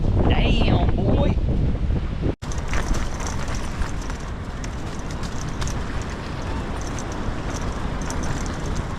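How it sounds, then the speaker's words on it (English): Strong wind gusts buffet the microphone outdoors at a lake on a February carp-fishing morning, a loud continuous roar broken only by one brief dropout, with a voice speaking faintly at the start. "as you've seen, can hear, it's a little bit breezy out there today"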